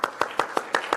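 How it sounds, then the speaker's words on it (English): Close, evenly spaced hand claps, about six in quick succession, mark the start of a round of applause for a speaker at a pollinator garden workshop. "Can we give him a big round of applause?"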